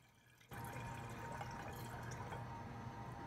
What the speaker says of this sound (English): If I pour it into a round container, I have changed the form of the water.